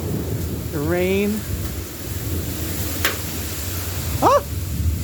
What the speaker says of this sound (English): This is a rainstorm.